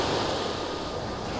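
Steady ocean surf rushes and hisses continuously, a broad wash of breaking waves with no voices.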